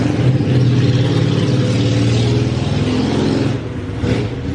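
A motorcycle engine passes close by with a loud, steady droning rumble, then fades near the end.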